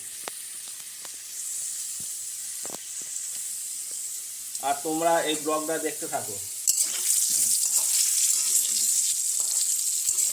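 Potatoes for chicken curry frying in hot oil in a pan, a continuous close sizzle and hiss, with someone speaking briefly midway and the sizzle swelling louder toward the end.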